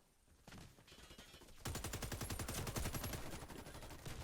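Loud, rapid automatic fire from the SED gun in the Warface shooter game, starting as a steady stream of closely spaced shots after a quieter lead-in and continuing without pause, with no talking.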